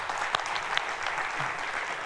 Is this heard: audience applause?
yes